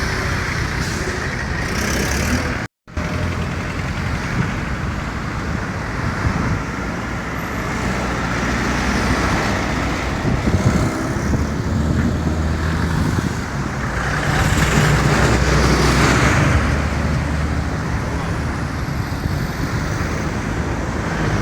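Heavy stop-and-go traffic jam on Boulevard Félix Houphouët-Boigny in Abidjan, with trucks, cars and buses idling and rumbling nearby, a brief air-brake hiss, and a dense, steady roadway drone that swells slightly toward the end.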